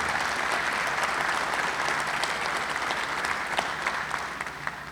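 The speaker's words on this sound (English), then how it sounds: "Let's give them a big round of applause." Sustained applause from a crowd at Ohio Stadium during a recognition ceremony before a statue unveiling, a dense, steady clapping that fills the whole stretch and fades slightly at the end.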